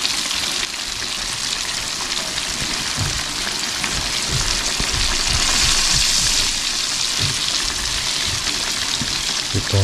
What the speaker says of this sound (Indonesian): Yang satu kita goreng pakai tepung guys.